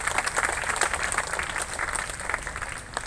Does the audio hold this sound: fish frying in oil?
no